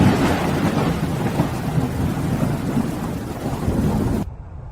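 Thunderstorm over Moscow: continuous heavy rain with deep rumbling thunder, loud and dense throughout, cutting off abruptly near the end.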